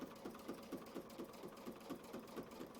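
A sewing machine stitching along marked crosshair lines while piecing a quilt block, with a steady, even rhythm of repeated needle strokes, close and moderately quiet, without any talk.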